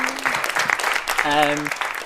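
A short burst of applause and cheering, with a voice briefly sounding over it.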